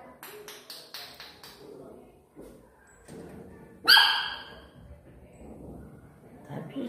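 A female dog barks in a quick run of sharp, fairly close yaps, followed by scattered quieter sounds and one louder burst, with people talking nearby.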